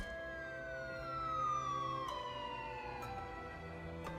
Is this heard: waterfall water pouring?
no